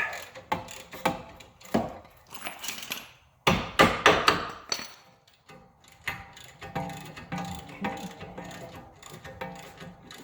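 Hammer strikes on a 2004 Toyota Prius axle nut, staking the dimple back in: a steady run of sharp metallic taps and clanks, close and loud, with a brief denser burst of blows partway through.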